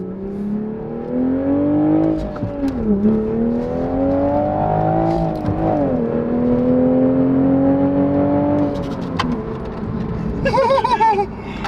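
A stock manual Toyota Supra accelerates hard through several gears, its engine note climbing steadily with brief dips at each shift, loud and close from inside the car, ending in a higher revving burst.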